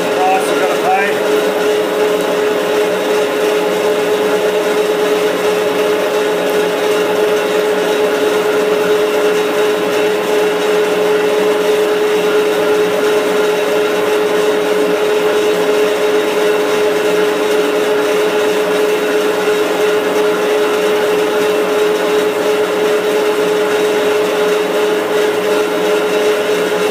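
Machine tooling roughs down R8 stock with a steady, loud mechanical drone and a constant whining tone, unbroken throughout the long stretch.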